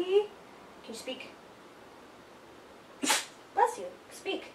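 A dog sneezes during a multi-dog training session, a few short sharp snorts standing out from low room noise with brief gaps between them.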